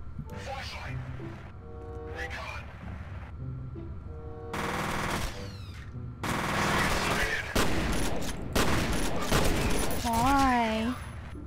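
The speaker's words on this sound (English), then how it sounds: "I have shotgun." Shotgun and other gunfire in the video game FEAR bursts out in dense volleys amid explosions and game effects, growing louder and more continuous toward the end, with a warbling tone near the finish and brief game voices.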